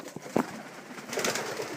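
Quail in a homestead pen give soft, brief calls, a couple of short chirps followed by a murmuring burst, faint and close.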